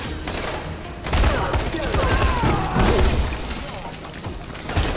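Rapid gunfire from a weapon in Dying Light, loud repeated bursts with booming thuds, while a player talks over the shooting.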